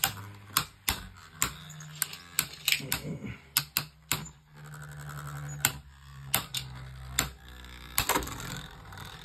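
Beyblade Burst tops, OG Spryzen with Spread Infusion against prototype Kerbeus, clash inside a plastic stadium: a run of sharp, irregular clicks and ticks over a faint whirring hum, with brief voices in the background.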